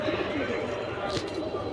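Pigeons kept in a loft cooing softly and steadily while someone talks nearby throughout.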